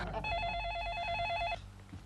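Telephone ringing, a steady warbling electronic ring lasting over a second and then cutting off, moderately loud against a faint room background.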